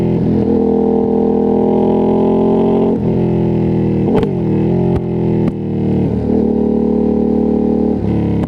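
Loud and close, a Ducati Streetfighter V2S twin-cylinder motorcycle engine revs hard through several rising pulls, with sharp shift breaks and short lulls between bursts of acceleration.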